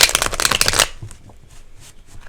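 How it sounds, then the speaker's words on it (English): A deck of cards riffle-shuffled in a fast, crisp flurry of flapping for under a second, then a quiet room with a few faint soft taps. "let's just shuffle again."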